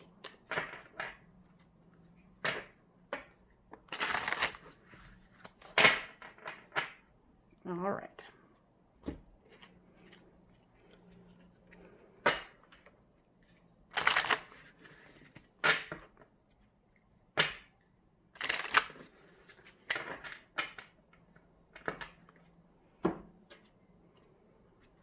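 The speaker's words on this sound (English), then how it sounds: "let me get these ones shuffled and cleansed from the last one" A deck of tarot cards being shuffled in scattered soft bursts of riffling and slapping, quiet and close, broken by pauses, with a person speaking briefly between them.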